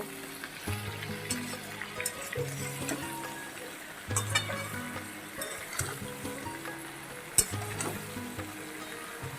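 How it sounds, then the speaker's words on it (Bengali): Spices sauté in a pan for a chickpea and mixed vegetable curry with carrot and papaya, giving a soft steady sizzle broken by repeated scraping stirs of a spoon against the pan. "এবার এই কটা উপকরণ দিয়ে আরও বেশ কিছুক্ষণ আমি কষিয়ে নেব"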